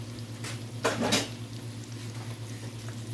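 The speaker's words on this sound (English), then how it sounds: "we're just gonna stir it up real good" Seasoned food being stirred in a pot, with a couple of clattering utensil scrapes against the metal over a low steady background hum, no voices present.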